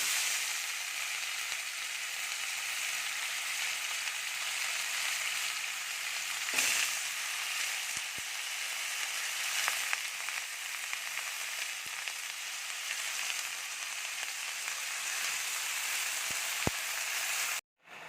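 Vegetables with prawns and Malabar spinach fry in a pan, giving a steady bright sizzle throughout, broken by a few brief clicks and stirring knocks.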